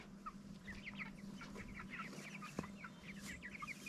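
Young chicks in a chicken tractor on a Maine homestead cluck and peep continuously in quick, overlapping chirps, faint and close, with a single sharp knock partway through.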